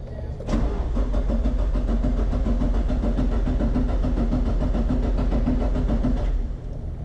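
Nissan SR20DET engine cranking over on the starter with the injectors unplugged, a steady rapid rhythmic churning that runs for about six seconds at close range and then stops, with no voices.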